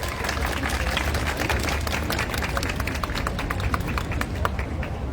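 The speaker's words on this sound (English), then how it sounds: "Please give a round of applause to Mr. Nicholas Horn." Outdoor protest crowd in Vancouver against the Hazara genocide applauding a speaker, steady scattered clapping sustained for several seconds at moderate distance with crowd ambience.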